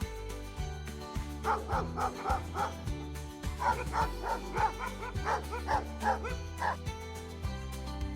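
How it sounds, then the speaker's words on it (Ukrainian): Rhythmic bursts of dog-like barking over a steady musical backing, arranged in quick clusters of woofs that sound playful and toy-like rather than natural. "песик каже гав-гав, гав-гав"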